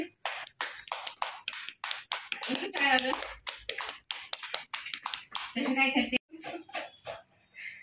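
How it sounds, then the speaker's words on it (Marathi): A family group claps for an aunt who won a ball-into-tray game at home. Rhythmic, fairly close hand claps run throughout, mixed with talking and children's voices. "जोरदार टाळ्या वाजवा आत्यांसाठी"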